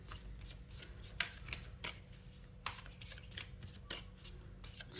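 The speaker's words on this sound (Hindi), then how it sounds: "शफल हो रहे हैं कार्ड्स" Tarot cards being shuffled by hand, a steady run of soft riffling slaps and brushes with sharper snaps now and then, close and fairly quiet over a low background hum, with no talking.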